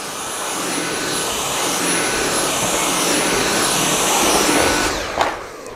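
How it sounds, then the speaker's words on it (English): A Hoover vacuum cleaner in a golf pro shop sucks up mess with a loud, steady, close-up roar that holds for several seconds before tapering off with a brief knock. "There's a button under here, you press this and it hoovers all your mess up."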